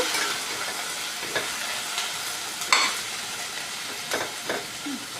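Tomatoes fry in a pan for paneer curry, with a steady soft sizzle. A spoon stirs and scrapes at intervals, and one scrape near the middle stands out.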